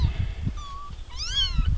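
Young kittens about three weeks old give several thin, high meows close by, one short cry followed by a couple of wavering calls, over a low rustling background.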